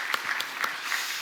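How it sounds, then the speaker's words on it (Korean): Church congregation clapping together during a Sunday worship service, a steady wash of hand claps at moderate, slightly distant volume, continuing evenly without voices. "찬양 받으신 하나님께 영광의 박수 올려드립니다"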